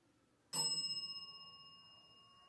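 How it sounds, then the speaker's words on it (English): A single bell strikes once with a bright, clear ding that rings on and slowly fades over about two seconds in a quiet room. "Could you ring the bell twice"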